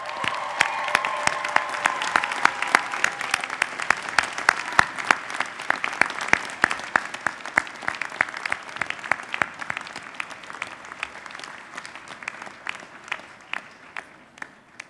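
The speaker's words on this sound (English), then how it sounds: "please, one more time, turn and honor them with a round of applause" A graduation convocation crowd claps in a round of applause honoring families, with many sharp individual claps that begin dense and loud, then slowly thin out and fade as the ovation winds down.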